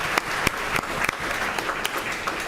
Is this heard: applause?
yes